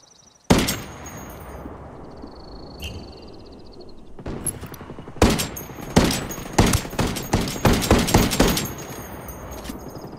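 Bursts of gunfire in the tactical shooter Ghost War, a lone report early on, then rapid, loud volleys of shots in quick succession toward the end, with no talking.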